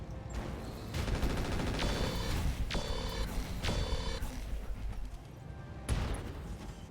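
Mech weapons fire in the RogueTech video game: loud, dense volleys of rapid gunfire and heavy blasts rolling together over a steady roar, with a few sharp bursts standing out.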